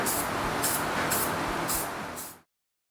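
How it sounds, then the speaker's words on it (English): Cheap flat black spray paint hisses from an aerosol can onto an engine dipstick, a steady close spray pulsing in about five quick surges before cutting off. "use some cheap flat black spray paint, and we spray it"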